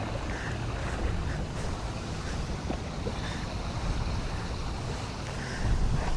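A strong current rushing through a creek at Calumpit, Bulacan, a continuous broad wash of flowing water mixed with wind buffeting the microphone, steady and fairly close with no talking.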